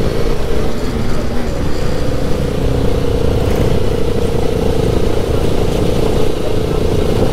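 Several motorcycles on a group night ride, every one with its exhaust removed, give a steady, loud, rough engine roar with rattling clatter that holds without a break.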